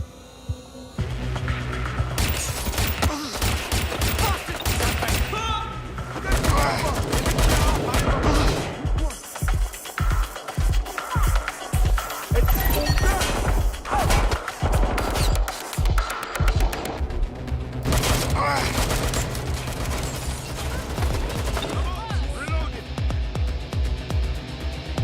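Video game gunfire in Watch Dogs: Legion, dense bursts of shots and rapid cracking fire with crashes and clanks, loud and continuous, with voices talking over parts of it.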